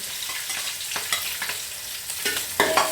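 Onions and green chilies fry in a pan as a spatula stirs them, with a close sizzle broken by repeated scraping strokes that grow louder toward the end, and no talking.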